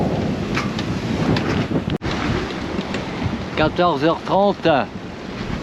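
Strong 24-knot wind roars across a sailboat's microphone as breaking waves rush past, a steady loud gusty wash throughout; someone speaks French over it near the end.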